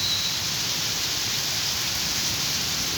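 Rain falling steadily outside the regent's office, a dense, even hiss with no individual drops standing out, continuous and fairly loud with no voices.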